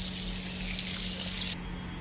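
A water tap running steadily, as hands are washed under it, a loud hissing gush that drops to a softer flow near the end, with no voices.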